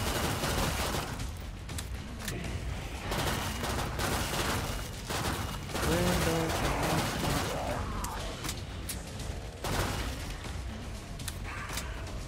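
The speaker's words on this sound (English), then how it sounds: "I'm using the 3-round burst pistol" Bursts of pistol fire from a three-round burst pistol in a survival shooter game, fairly quiet and repeated in clusters over steady background game noise and effects, with no voices.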